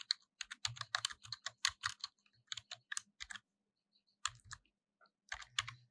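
Computer keyboard typing while entering C code, quick bursts of clicky keystrokes separated by brief pauses, close and fairly quiet, no voices.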